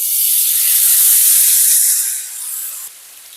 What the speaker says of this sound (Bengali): এবার এর মধ্যে পেঁয়াজের পেস্টটাকে দিয়ে দেব